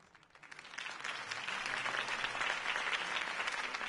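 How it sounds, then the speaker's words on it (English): Crowd applause builds after a campaign speech in the video game Batman: The Telltale Series, a dense, sustained wash of many hands clapping that swells over the first second and stays loud, with no talk over it. "could have heard that applause"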